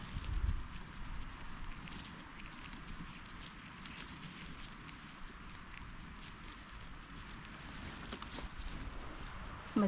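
Strong wind rushes through a Swedish forest, a steady broad roar that holds throughout with a few brief gusts and handling bumps, no voices.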